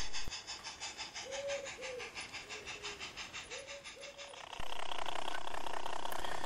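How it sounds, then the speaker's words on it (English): A small model ore train on a model railway rattles past with a rhythmic clickety-clack and faint squeals, then a louder steady hum takes over near the end. "the last down ore train of the day passes through."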